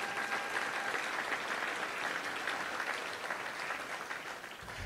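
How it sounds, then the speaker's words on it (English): An audience at a Little Rock Touchdown Club luncheon applauds in a steady, dense wash of clapping that fades slightly at the end, with no speech over it. "Let's give a round of applause to all of them if you don't mind."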